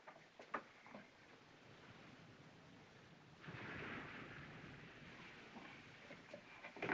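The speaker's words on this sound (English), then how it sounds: "That's stormy weather." Stormy weather in a 1930s film: rolling thunder under steady rain, with a loud swell of rumble midway and sharper cracks near the start and end, recorded faintly with no voices.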